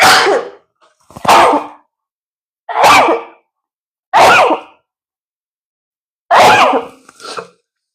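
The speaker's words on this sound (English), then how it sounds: "Oh, I'm going to sneeze." Five sharp sneezes, loud and close, each a sudden explosive burst separated by short silences, the last followed by a smaller second burst.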